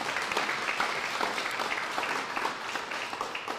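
Audience applause at a community college collaboration event in Anaheim, a steady wash of many hands clapping throughout, moderately loud and continuous with no voices.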